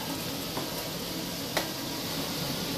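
Butter melts and is swirled around a wok before shrimp goes in, giving a steady close sizzle with a couple of light utensil taps.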